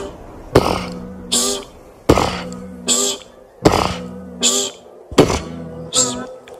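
A beatboxer's voice imitates a Minecraft Creeper explosion in a beatbox battle: a run of loud, booming mouth-made bursts, each a sharp hit with a buzzing tonal tail, repeating roughly every second and a half.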